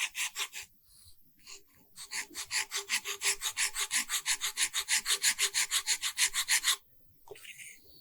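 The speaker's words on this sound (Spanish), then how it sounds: "Son las típicas escofinas que se utilizan para carpintería." A woodworking rasp files an alabaster bead for a six-pointed star, starting with a few separate scrapes, then a long run of quick, steady, rhythmic rasping strokes at close range before it stops.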